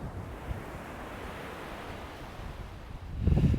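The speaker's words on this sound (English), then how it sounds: "I'm not sure if you can hear the waves in the background of where I am" Ocean waves wash in the background outdoors. A steady, hushing surf lasts throughout with light wind rumble on the microphone, and a louder low surge comes near the end. No one speaks.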